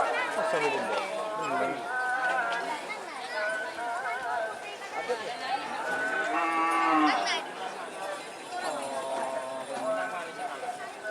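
Racing bulls at a karapan sapi bull race in Bangkalan regency, 2024, with cattle calls and hoof clatter mixed into a loud, busy scene under continuous announcer talk.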